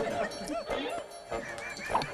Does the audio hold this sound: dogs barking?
yes